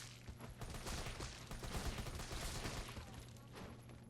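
Gunfire in the Resident Evil 3 video game, a quiet but steady run of rapid shots crackling over several seconds, with a voice talking over it.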